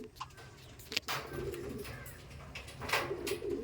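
Pakistani teddy pigeons coo softly nearby in a few repeated low, throaty phrases, with faint background noise and occasional soft chirps around them.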